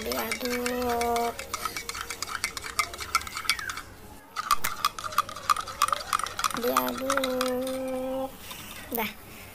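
Hand stirring of dorayaki batter in a bowl without a mixer, a steady scraping and clinking of utensil against the bowl that runs throughout, with a voice talking over it at times.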